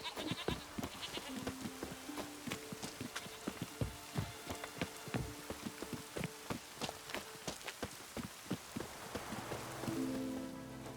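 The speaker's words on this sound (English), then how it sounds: "Rain in fucking buckets." Heavy rain falls in The Witcher 3, a steady patter of drops under a busy mix of sharp clicking hits and tonal game sounds, moderately quiet throughout.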